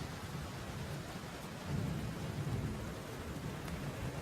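A violent storm at a lighthouse, with heavy rain and a low thunder rumble that swells in the middle, a continuous dense wash of sound with no voices.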